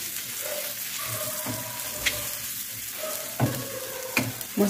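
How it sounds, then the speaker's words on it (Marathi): Masala paste for tava anda masala fries in a pan, a soft steady sizzle with occasional stirring clinks and scrapes, fairly quiet and without talk. "मी वाटण पण 2 मिनिट मस्त फ्राय करून घेतलेलं आहे."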